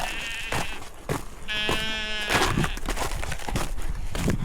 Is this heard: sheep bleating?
yes